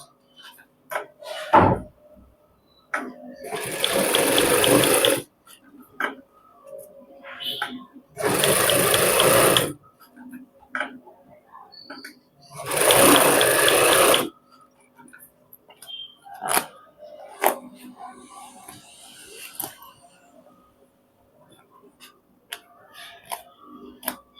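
Sewing machine stitching a pant belt, heard in three loud whirring bursts of a few seconds each, separated by quiet gaps with small clicks and handling noises.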